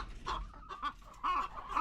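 Pet backyard chickens from a second batch cluck in short, close bursts, several soft calls overlapping over about two seconds.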